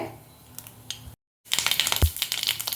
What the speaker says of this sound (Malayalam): അതിലേക്ക് 1/2 ടീസ്പൂൺ കടുക് ഇട്ട് കൊടുക്കാം. കടുകൊന്ന് പൊട്ടി വരട്ടെ.